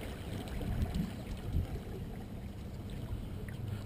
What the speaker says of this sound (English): I'm quite happy with this motor in here.